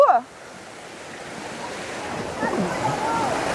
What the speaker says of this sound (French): c'est incroyable de se dire qu'il y a une cascade dans la ville